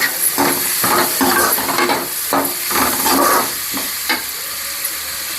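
Vegetables with green chilies and capsicum sautéing in a pan for paneer noodles, loud close sizzling broken by repeated scraping stir strokes, then settling into a steadier hiss.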